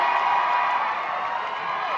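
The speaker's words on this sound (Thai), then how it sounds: "ขอเสียงปรบมือดังๆอีกครั้งให้กับผู้เข้าประกวด Miss Universe สระบุรี" An audience at the Miss Universe Saraburi 2025 pageant in Thailand applauds and cheers for the contestants, a steady, dense wash of clapping and crowd noise with no pauses.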